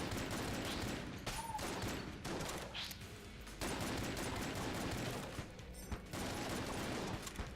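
Gunfire from the video game Enter the Gungeon, including a shotgun blast, rattles in a dense, continuous barrage of overlapping shots at low overall volume, with brief dips between volleys.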